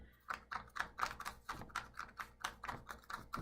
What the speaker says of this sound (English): you're going to start tapping it to let that ink get soaked into the paper.